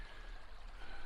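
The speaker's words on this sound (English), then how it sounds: "you can see the creek" A small creek in a southern Alberta town flows with a soft, continuous babbling rush on a cold, foggy morning, faint and steady throughout.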